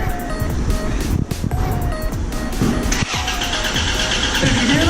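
Starter motor cranking the engine of a Buick Grand National with the battery disconnected so it won't fire, a new mini starter turning it over in a steady, loud mechanical whir with a brief pause.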